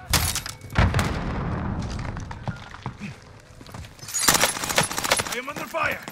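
Gunfire in the video game Call of Duty: Modern Warfare crackles in bursts with thuds and booms, loud at first, easing mid-way, then flaring up again, while people talk over it.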